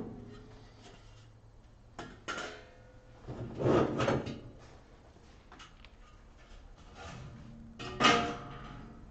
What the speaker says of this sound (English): you can lift out the cover panel.